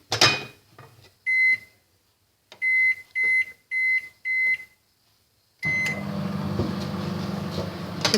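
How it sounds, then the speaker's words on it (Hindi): A microwave oven cooking fish gives a series of short electronic beeps, five or six in quick bursts, then starts up with a steady humming whir that continues to the end. "अब जा रही है फ़िश ओवन में"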